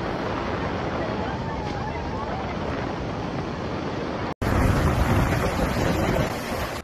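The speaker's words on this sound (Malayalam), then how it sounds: "കാറ്റ് വരുമ്പം ഒരു ട്രെയിൻ നമ്മുടെ വീടിന്റെ സൈഡിൽ കൂടെ ഫാസ്റ്റ് ആയിട്ട് പോകുന്ന പോലെ തോന്നിക്കും" Hurricane Milton's winds roaring in Florida, a loud, unbroken rushing gust that surges even stronger after a brief cut.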